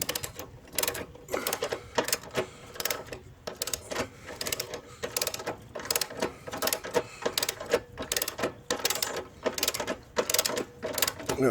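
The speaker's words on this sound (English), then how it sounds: "We're going to torque it to 35 foot-pounds." A torque wrench tightening a support-frame bolt to 35 foot-pounds during a transmission swap on a 2013–2016 Ford Escape 2.0L AWD, giving a steady, loud train of rapid ratcheting clicks in even bursts, close up and uninterrupted by talk.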